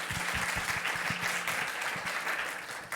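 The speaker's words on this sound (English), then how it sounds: "Give them a round of applause." Audience applause for panelists at the close of a SOCAP24 conference session, a steady wash of clapping from a room full of people lasting the whole stretch, with no speech over it.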